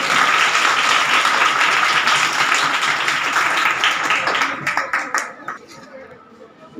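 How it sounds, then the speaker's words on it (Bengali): Students at a school farewell ceremony for SSC exam candidates clap loudly in a sustained burst of applause, with some crowd chatter, before it thins out and fades over the last couple of seconds. "তোমাদের পক্ষ থেকে আমাদের পক্ষ থেকে ভালো করে একটা করতালি হলো আমাদের"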